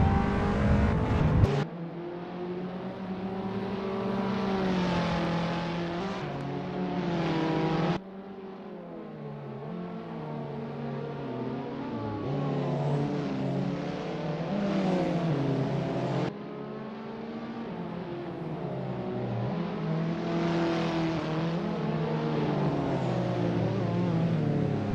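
Abarth 500 race cars in the Assetto Corsa racing game, driving on the Paris Arc de Triomphe circuit, engines revving and shifting continuously through gears in a steady loud drone with sharp cuts between shifts, no talk.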